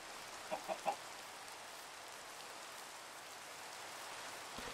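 Steady rain falls in Minecraft, a soft continuous hiss that runs through the whole stretch, with a few brief clucks from in-game chickens near the start.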